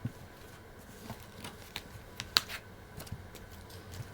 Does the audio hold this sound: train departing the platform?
no